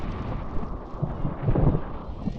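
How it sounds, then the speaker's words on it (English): Gusty wind blusters across a school baseball field, a low, rough buffeting against the microphone that swells and eases in irregular bursts. "Very blustery, windy day here at the Raymond School Fields."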